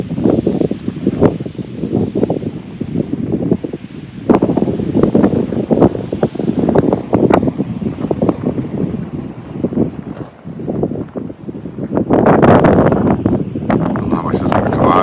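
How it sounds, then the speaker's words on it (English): Strong gusty wind buffets the microphone outdoors near an RV park in Tucson, roaring in loud surges throughout with brief lulls and a heavier blast near the end. "I don't know how much is going to come out with the wind having picked up quite a bit."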